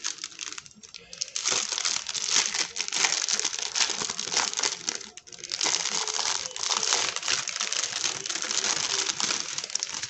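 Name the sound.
opening a packet of diamond painting drills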